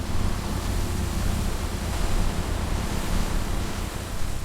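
A loud waterfall roars as a steady, dense rush of crashing water that fills the whole stretch without a break.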